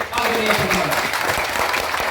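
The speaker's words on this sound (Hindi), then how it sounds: "एक बार जोरदार ताली बजाइए।" Loud, dense applause from a large crowd at a Jan Suraaj political rally in Bihar, a steady wash of clapping from many hands close by, welcoming Prashant Kishor before he speaks.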